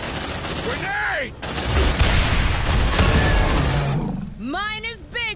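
A grenade blast and gunfire erupt during combat in the video game Aliens: Dark Descent, heavy booming noise swelling through the middle, with shrieking alien cries at the start and end.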